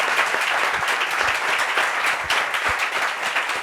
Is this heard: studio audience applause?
yes